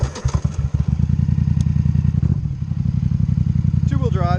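A Can-Am 850 Highlifter ATV on 34-inch Motos tires revs hard for a wheelie, giving a loud, close, pulsing engine roar with clattering and thumps. A voice shouts briefly near the end.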